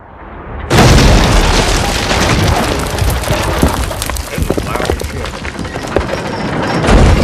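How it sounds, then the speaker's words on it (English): A big explosion in the medieval video game Kingdom Come: Deliverance 2, a sudden loud boom that erupts after a brief quiet lead-in, then a long rumbling, crackling roar of debris and fire that fills the rest of the moment. "Kaboom! Take cover!"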